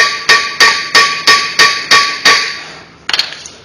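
A hammer taps the brake rotor on a Mercedes Sprinter van in eight evenly spaced, ringing metallic strikes, loud and close, followed by a brief clattering rattle.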